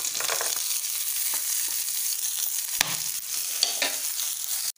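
Onion and a handful of cashew pieces frying in a pan for a Hyderabadi paneer masala, a steady close sizzle with scraping stirs, occasional sharper pops and a clatter near the end.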